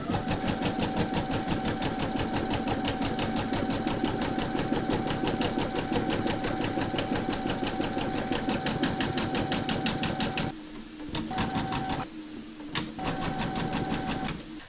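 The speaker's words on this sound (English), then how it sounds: "Pop your hoop into your machine and stitch round number 4" An embroidery machine in a hoop stitches a reindeer slipper design with a steady, fast, rhythmic needle clatter and motor hum, then stops and restarts several times in brief gaps near the end.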